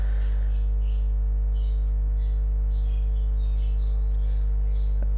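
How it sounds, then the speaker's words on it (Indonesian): An electric fan spins with a steady, unbroken low motor hum throughout. A faint click sounds near the end. "Ya, kipas sudah berputar."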